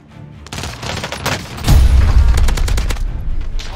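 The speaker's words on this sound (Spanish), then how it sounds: "Me disparan por la espalda, eso no mola." Gunfire in the Call of Duty Warzone video game: a dense, loud fusillade of rapid shots with heavy booming impacts that swell midway and continue as sharp bursts to the end.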